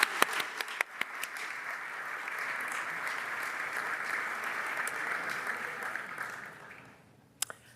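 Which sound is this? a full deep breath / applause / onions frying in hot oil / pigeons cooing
applause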